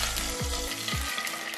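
Water poured into a hot pan while making dhokla spits and sizzles steadily, a close, continuous hiss with a couple of low clunks early on and no talking.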